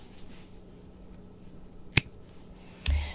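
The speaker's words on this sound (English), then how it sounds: "so now I'm going to trim my yarn" Scissors trimming crochet yarn on a beanie hat give a single sharp snip in a quiet room, followed moments later by a second cut with a soft thud.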